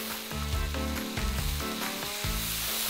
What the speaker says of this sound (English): So I'm gonna go in now with my onion.